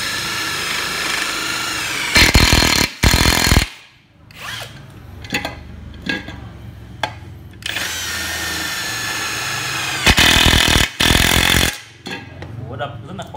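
A DeWALT cordless power tool hammers in loud, close bursts of a few seconds each, with talk heard between and around the bursts.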